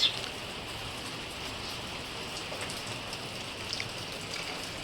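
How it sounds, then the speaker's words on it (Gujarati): Light rain falls steadily on a village in Gujarat, a soft even hiss of drops on surfaces that stays faint and constant throughout, with no voices. "ધીમે ધીમે વરસાદ આવી રહ્યો છે જો અત્યારે."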